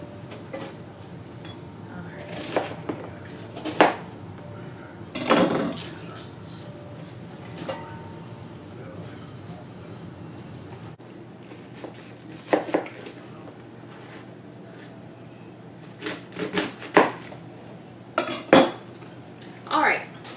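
A knife chops cabbage into pieces on a kitchen board, with clattering of dishes and utensils; several distinct chopping strikes come in irregular bursts, close and moderately loud.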